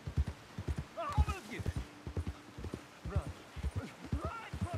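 A horse's hooves clip-clop in an uneven, close trot in the video game Red Dead Redemption 2, while someone talks over the rhythmic footfalls.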